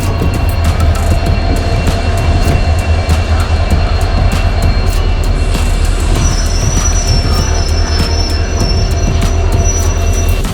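A goods train of railway equipment wagons rolls along the tracks, loud and continuous, with a steady rumble, clattering wheels and a high-pitched squeal of wheels on rail near the end.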